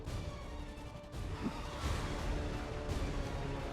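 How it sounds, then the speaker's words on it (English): An explosion goes off in XCOM 2: War of the Chosen, a sudden crashing burst followed by a sustained roaring, rumbling wash that lingers loudly for several seconds. "The shockwave of that explosion reverberated throughout most of the city."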